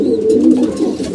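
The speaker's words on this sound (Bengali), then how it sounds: "কবুতরটা" A pigeon kept with its chicks in a netted coop coos close by, a low, rolling, continuous call with no talking over it.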